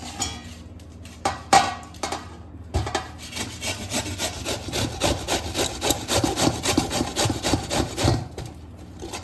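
Peeled bottle gourd (dudhi) is rubbed against a metal grater in steady, rhythmic rasping strokes, close and clear, with brief pauses between bursts of scraping.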